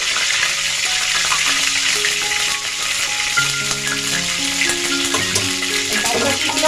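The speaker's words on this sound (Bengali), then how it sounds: "রুটিটি লাল লাল করে ভেজে নিয়েছি" Steady, dense sizzling of roti flatbread frying in hot oil until reddish brown, continuous and fairly loud throughout with no talking.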